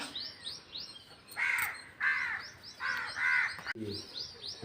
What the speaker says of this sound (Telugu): ఇప్పుడు బాగా వస్తున్నాయి ఎక్కువే కాకులు